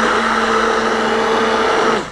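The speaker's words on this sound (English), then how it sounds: "Hand blender or immersion blender of this type will help." A hand blender whirs loudly at a steady pitch for about two seconds while blending homemade coconut oil lotion, then winds down as it is switched off.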